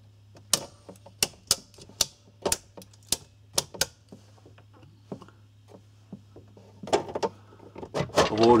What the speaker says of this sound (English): I'm already undoing the screws